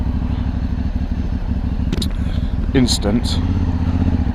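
Aprilia Shiver motorcycle ride with a steady engine drone and wind rumble underneath, while a rider talks over it close to the microphone and brief clatters cut in.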